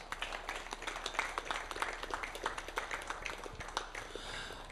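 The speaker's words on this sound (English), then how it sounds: "I want you boys to give a round of applause to your parents" Boys applauding their parents at an under-15 North/South Classic cricket event, a steady patter of scattered hand claps, moderately distant and fairly faint.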